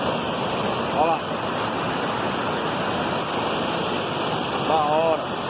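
A large waterfall roars in a steady, loud wash of water, heard from close by on a stone slab leading down to it, with a couple of brief chirps on top.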